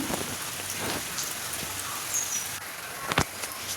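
Steady patter of monsoon rain falling, a soft continuous hiss with scattered drops and a few sharper taps near the end.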